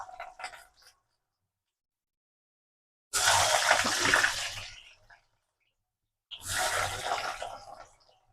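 Diced potatoes drop into hot oil and hiss in two loud bursts of sizzling, each dying away after a second or two, with quiet gaps between.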